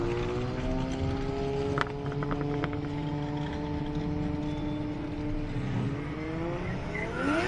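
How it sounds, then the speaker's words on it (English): Drift cars' engines roar steadily as they drive slowly into the pit area at Manfeild, their revs rising and falling with a brief tire chirp near the end. "See the two cars head into the pit area."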